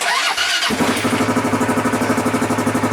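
A fuel-injected motorcycle that had sat unused for a couple of years cranks briefly, then catches and settles into a loud, close, steady pulsing idle.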